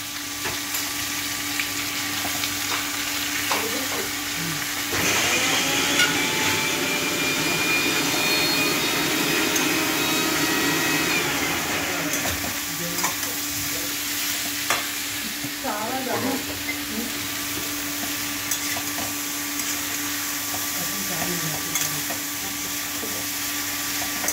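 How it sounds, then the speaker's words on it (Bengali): Thin slices of ash gourd hitting hot oil in a pan, a loud burst of sizzling that swells, then settles into a steady fry with scraping stirs and spoon knocks, close and continuous. "চাল কুমড়ো ঢেলে দিলাম।"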